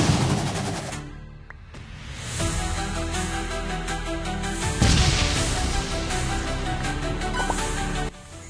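Gunfire in the video game Roblox rattles in loud, dense bursts of rapid shots that run almost continuously with brief breaks.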